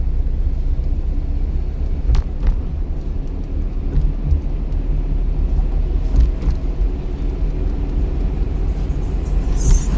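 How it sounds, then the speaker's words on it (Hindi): Car engine running steadily in a driving lesson as the learner gives it gas and eases off the clutch to pull away, a continuous low rumble with no clear rev peaks, fairly loud and close. "रेस दो, क्लच से पाँव साइड में करो"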